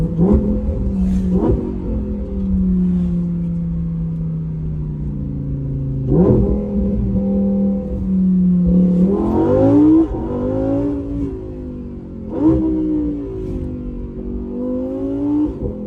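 A Lamborghini accelerates hard with repeated revving surges, its engine note climbing and dropping through several gear changes, loud and close with no voices.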